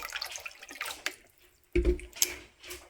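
Vinegar splashes into a bowl of water set up for soaking cucamelons, a few faint drips followed by a sharper pouring splash partway through, then light trickles.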